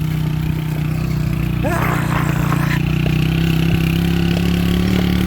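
A motorcycle engine idles steadily throughout at close range, a constant low hum that carries on while a beginner rider, a 14-year-old, is coached through the controls.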